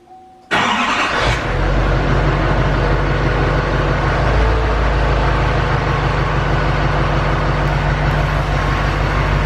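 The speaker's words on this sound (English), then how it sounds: "I'll get you guys a cold start real quick of the exhaust," A 2019 L5P Duramax diesel pickup with stock exhaust cold-starts close by: a sharp crank catches within a second, then the engine settles into a loud, steady idle that rumbles on without a pause.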